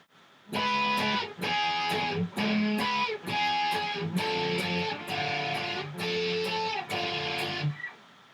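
Electric guitar chugging through a song breakdown, four chords repeated in blocks with short gaps between them, loud and close, no talking.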